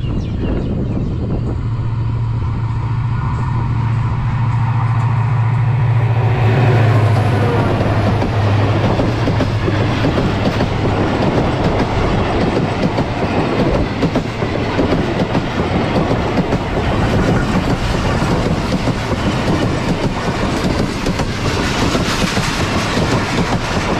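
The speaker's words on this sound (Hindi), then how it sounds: "मुरादाबाद रेलवे स्टेशन पर अप्रोच कर रही है पिशावर और कराची के माबैन चलने वाली 48 डाउन रहमान बाबा एक्सप्रेस" Rehman Baba Express, the 48 Down passenger train between Peshawar and Karachi, approaches and runs through a quiet station, a loud, steady rumble with clickety-clack of wheels on rail and a brief horn-like tone early on.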